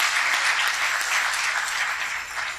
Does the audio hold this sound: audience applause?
yes